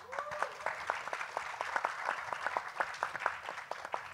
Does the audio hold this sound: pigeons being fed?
no